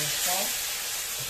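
Ground spice paste stir-fried in hot oil, a brief burst of steady close sizzling with a faint voice underneath.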